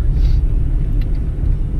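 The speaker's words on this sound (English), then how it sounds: "We're drifting right now" A Ford ZX2 car drifting, heard from inside as a loud, steady low engine and road rumble with a faint high squeal of tires briefly rising over it.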